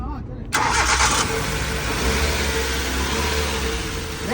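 A used car's engine cranks and catches, then idles and revs with a steady mid-pitched drone, close by, while people talk over it.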